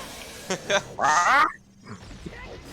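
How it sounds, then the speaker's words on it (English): Sound effects from an Ocarina of Time randomizer: a clucking chicken-like cry stands out as a loud harmonic squawk, preceded by short sharp blips and followed by faint low rumbling. "Just listening to Ganon's like big screams and Navi's chicken noise."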